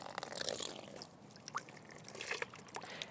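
Water runs from a hole in a bucket into a bowl below, a faint, close trickle and splash with light dripping, quiet throughout.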